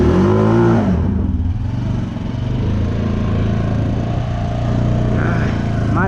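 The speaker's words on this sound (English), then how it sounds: "With the burnout." A Honda Rancher ATV on 32-inch Aztex tires revs hard through a burnout, its engine roaring loud and close with a rising whine at the start, then a steady droning growl that holds to the end.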